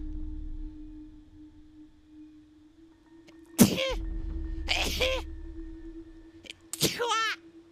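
A sneeze heard during play of the video game Kena: Bridge of Spirits: sharp, breathy bursts come at intervals, with a few close, loud blasts over a steady low hum, and a voice is faintly present.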